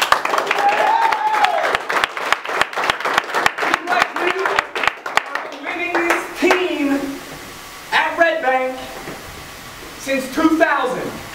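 A high school basketball team claps together in a locker room, a run of sharp, rhythmic unison claps that quicken and then break into cheering and excited voices of young players.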